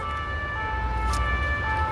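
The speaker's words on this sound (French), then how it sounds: "pendant la vidéo, les pompiers passent ou la police passe" An emergency vehicle siren passes by outside, a steady wailing tone held over a continuous low rumble of traffic, fairly distant and with no talk.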